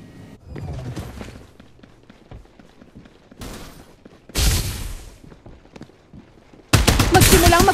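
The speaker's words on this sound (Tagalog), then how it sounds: "Magsimulang magpaputok." Gunfire in the Farlight 84 battle royale game comes in bursts: rapid automatic fire at first, quieter stretches between, then loud sustained volleys near the end.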